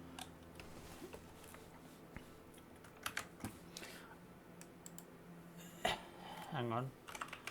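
Fast clicking of computer keyboard typing during an Elden Ring gaming session, near and fairly quiet, mixed with soft game sounds and a few louder clatters.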